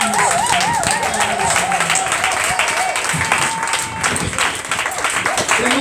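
A church congregation applauds and acclaims the Lord in a steady, dense wash of clapping, mixed with voices calling out and singing at a loud, close level.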